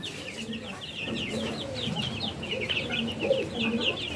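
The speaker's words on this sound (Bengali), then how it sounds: "দেখুন মুরগির বাচ্চাগুলা" Egyptian Fayoumi chicks cluck and peep steadily on a farm, a busy chorus of small bird calls continuing throughout at moderate loudness with a low background hum.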